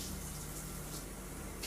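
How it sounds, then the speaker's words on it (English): Water running steadily from a kitchen tap at full flow, a continuous close splashing hiss while mixing flaxseed for vegan buckwheat blueberry muffins. "You gotta turn the water down or it splashes all the way out."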